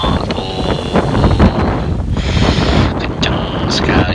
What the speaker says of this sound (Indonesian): Jadi dia cuma angin.